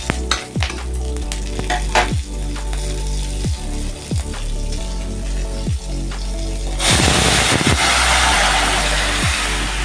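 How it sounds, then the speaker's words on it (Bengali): Hot oil in a wok crackles as five-spice seeds and green chillies are tempered, a steady close sizzle with scattered clicks and scrapes that swells into a loud, dense hiss near the end. "এখন এই কড়াইতে সামান্য একটু তেল দিয়ে আমি যে 5 ফোড়ন আর 2 কাঁচা লঙ্কা দিয়ে ঝোলটা আদলে দেবো"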